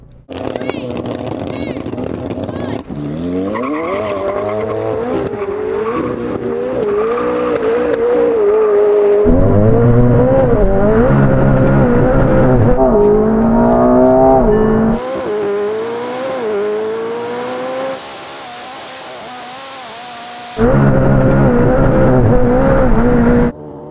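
A McLaren and a modified Ferrari 488 Pista drag race, their engines revving hard in loud, rising sweeps that rise and fall repeatedly, with people talking over the engine noise throughout.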